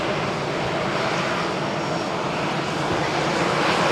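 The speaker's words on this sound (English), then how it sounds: "there's also a Ryanair flight" A Ryanair airliner at Malaga Airport on a stormy morning by runway 13 gives a loud, steady engine roar that holds unbroken and close throughout, with no talk over it.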